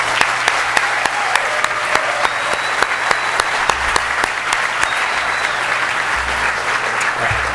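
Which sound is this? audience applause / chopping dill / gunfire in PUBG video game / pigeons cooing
audience applause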